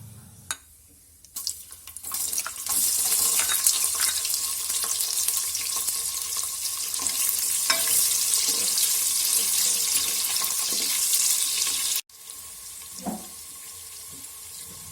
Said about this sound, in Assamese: এতিয়া ইয়াতে পিঁয়াজখিনি দি অকণমান সময় ভাজিম